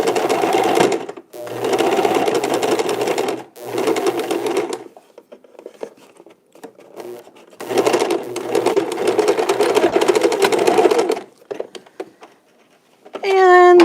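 A sewing machine stitching face masks runs in several loud, close bursts of a few seconds each, separated by short stops, with quieter handling noise in the gaps.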